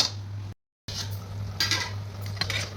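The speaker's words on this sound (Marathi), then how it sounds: "गरम पाण्यामध्ये घोळून घ्यायचं." Besan flour paste stirred in hot water in a pot, heard as scraping and clinking of a utensil over a steady low hum, with a short gap of silence early on; no talking.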